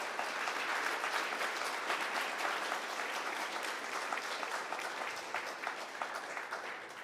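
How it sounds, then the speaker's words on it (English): Steady, dense applause from a conference audience at the close of a Substance Days Hollywood 2017 session, loud and continuous for the whole stretch with no speech over it. "Round of applause, everyone."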